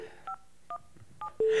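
A touch-tone telephone number is dialed as three short beeping tones at a steady pace, followed by a louder, longer tone, all fairly quiet and alone with no talking.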